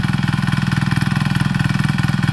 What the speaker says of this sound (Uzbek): Mana mini traktor zo'r narsa ekan.